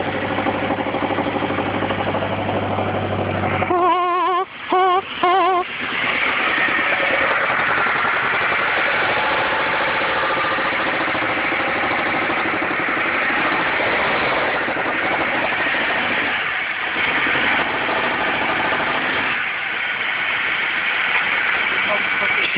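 2000 Chevy Cavalier with a 2.2 engine idling, a steady mid-pitched hum and vibration with a brief disturbance early on, a voice talking over it.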